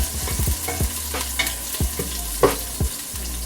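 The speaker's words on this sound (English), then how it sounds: "caramelize this. Stir it around." Shallots caramelising in a hot pan, stirred with steady sizzling and repeated soft scrapes and knocks of the utensil, close and continuous without speech.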